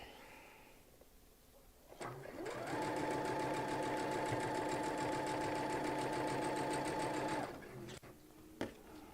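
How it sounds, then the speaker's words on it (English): A sewing machine stitches hankies together for a table runner, one steady run of fast mechanical whirring for about five seconds, starting and stopping abruptly, fairly quiet and close against a faint room hum. "I am going to go ahead and stitch those together"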